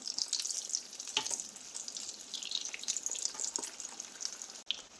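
Egg kabab frying in a pan, a steady close hiss of hot oil with soft crackles and brief scraping clinks, fairly quiet, no voices.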